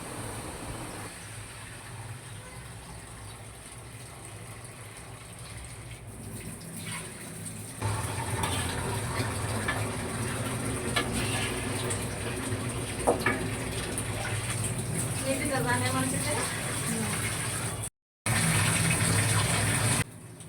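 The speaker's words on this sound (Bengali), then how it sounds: "পরিমাণ মতো পানি দিয়ে দিচ্ছেন" Water is poured steadily into a large pot of khichuri being cooked for 20–25 people, a continuous loud gushing splash that runs for most of the clip with one brief break near the end.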